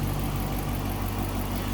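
A 2014 Dodge Challenger R/T Shaker with a 5.7 liter Hemi engine and cold air intake idling, a steady, dense rumble heard up close with no voices.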